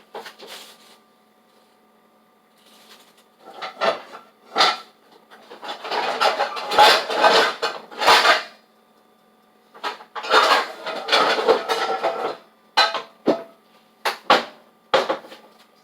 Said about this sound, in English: come over here and get our frying pan